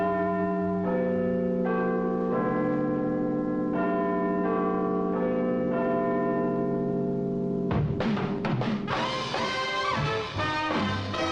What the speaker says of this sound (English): to hear old Big Ben chime